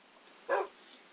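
A pet dog in the Minecraft video game gives a single short bark, close and clear, with nothing else around it.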